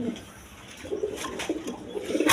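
Pigeons kept for sale coo softly in short, repeated calls close by.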